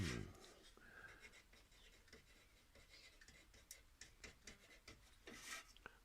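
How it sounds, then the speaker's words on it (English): A pencil and marker scratch and squeak across garden plant labels, producing a series of small, close, quiet strokes and rubs with faint background noise. "I will just grab a pencil and a marker"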